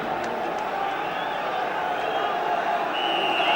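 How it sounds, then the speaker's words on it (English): Large football stadium crowd at Chelsea v Man Utd in the 1984/85 season, a steady broad roar of many voices filling the ground, held at an even level throughout with distant chanting. "So a big crowd and a big atmosphere then"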